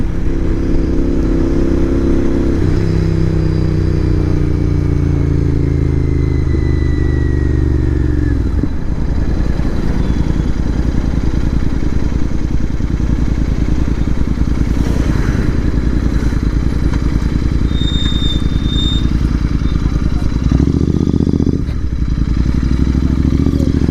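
A fully modified 2024 Royal Enfield GT650 motorcycle is ridden at speed, with the engine droning loudly throughout. Gear shifts drop the pitch, wind roars around it, and the engine revs up again near the end.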